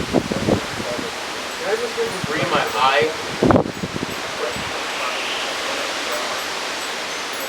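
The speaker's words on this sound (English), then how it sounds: "Oh god, here comes the big gust." A strong wind gust of up to 60 mph sweeps through trees during a severe thunderstorm on the 4th of July, a steady, loud broadband roar with rustling under a man's speech.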